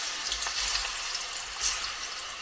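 Chopped ripe plantain-type banana sizzling in hot Milma ghee in a pan gives a steady, close hiss of frying with faint bubbling crackle throughout and no talking.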